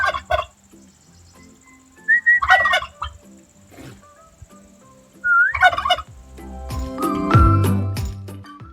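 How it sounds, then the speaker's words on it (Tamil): Male turkey in a Trincomalee village yard gobbling in three loud, rattling bursts spaced a few seconds apart, followed by clattering and rustling nearby. "இதை பார்த்தீங்கன்னு சொன்னால் ஆண் வான்கோழி"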